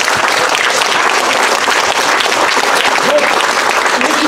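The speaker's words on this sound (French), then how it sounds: "Donc ça s'applaudit." An audience applauds steadily and loudly for the full length at a French village gathering honouring a local figure, with dense overlapping claps and no break.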